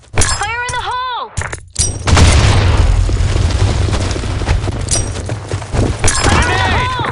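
A grenade blast in the shooter game Blackshot on the Sand Storm map: a heavy, loud boom that rolls on into rumbling gunfire, with game voice callouts heard just before and near the end.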